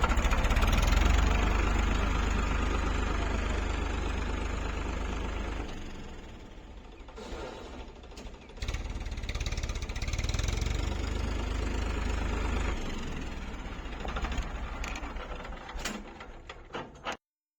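A tractor engine runs close by with a low, rumbling idle and mechanical knocking, dropping and rising in loudness before cutting off at the end.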